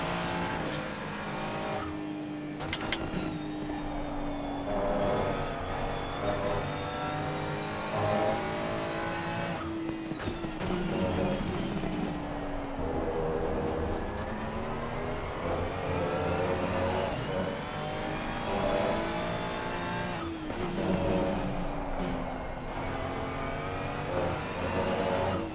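A turbocharged race car engine in Assetto Corsa Competizione revs hard and continuously, pitch climbing and dropping through gear shifts with brief tire noise, loud and alone for the whole stretch.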